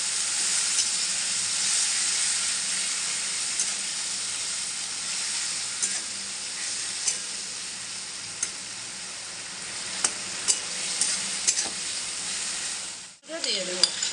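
Cabbage cooked with fish head sizzles and fries steadily in a pan, a loud close hiss broken by occasional scraping stirs and spoon taps, with a brief break near the end.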